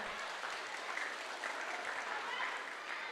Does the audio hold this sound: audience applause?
yes